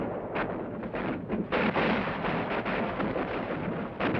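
Heavy artillery bombardment and airstrikes pound positions around Khe Sanh during the Vietnam War battle, a dense, continuous rumble of overlapping booms and blasts with no voices.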